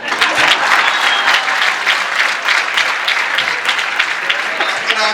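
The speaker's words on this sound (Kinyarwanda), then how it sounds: "amashyi menshi ku ngabo z'igihugu" A live audience claps steadily and densely for several seconds, loud and close, a crowd of many hands with no pause.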